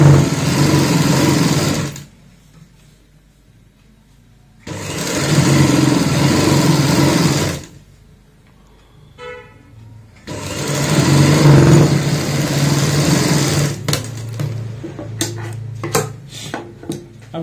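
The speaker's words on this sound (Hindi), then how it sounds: "यहाँ पे भी कम से कम मार्जिन लेते हुए सिलाई लगाएंगे" A sewing machine stitches a baby frock in three loud continuous runs separated by pauses, then shorter bursts and clicks near the end.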